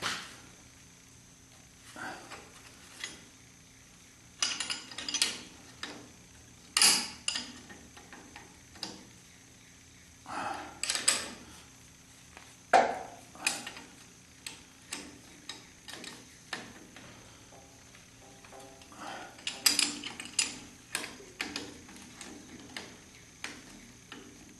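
A wrench clicks and ticks against a half shaft bolt on a 1976 Corvette in sparse, irregular bursts, faint and close, with long quiet gaps between the metallic taps.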